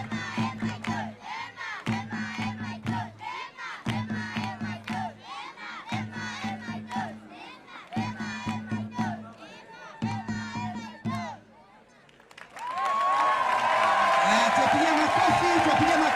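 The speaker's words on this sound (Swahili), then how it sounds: "Let's encourage them by a hand clap, please." Crowd at a school education event in Gatundu South shouting and cheering in rhythmic bursts as primary school dancers enter the field, then a louder sustained swell of cheering and whooping near the end; an announcer speaks between the waves.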